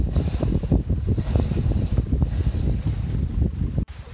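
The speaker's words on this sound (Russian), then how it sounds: "Ветер даже есть." Wind buffeting a microphone aboard a sailing yacht off the Mallorcan coast, a steady loud rumbling gust noise with water and hull wash beneath, briefly cut by a sharp click near the end.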